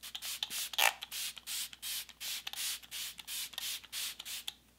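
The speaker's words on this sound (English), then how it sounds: "So I'm gonna go ahead and spray this all over the face." Setting spray misted over a face during a makeup routine, heard as about a dozen short, close hissing bursts in a steady rhythm, each roughly a third of a second long, with no talking.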